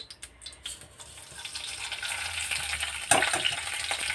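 Mustard seeds, cumin, urad dal and dried chillies fry in hot oil, starting as a soft hiss that swells into a steady close sizzle, with a sharp crackling burst near the end.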